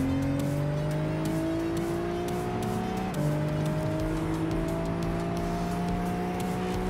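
A race car in Gran Turismo 5 holds a loud, steady high-revving engine drone on its final lap, pitch climbing gradually, dropping briefly at a gear shift, then rising again, close and continuous with no voices.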